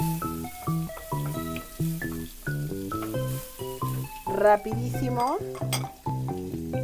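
A little bacon sautés in butter for a quick pasta, producing a low sizzle and stirring noises that sit under a person talking and some tonal background sound.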